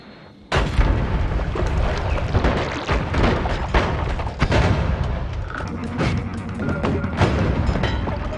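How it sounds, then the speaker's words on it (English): Dense, rumbling booms and thuds burst out one after another, loud and close, forming a continuous barrage of explosions with sharp cracks mixed in, from the video game Noita. "Explosions around you have a very satisfactory oomph to them as well."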